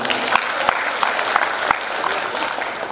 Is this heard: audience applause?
yes